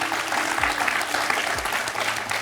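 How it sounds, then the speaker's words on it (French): Studio audience applause on a French TV quiz show, a dense, even wash of clapping that holds steady at moderate loudness for the whole stretch. "On peut applaudir Paul pour ce beau score."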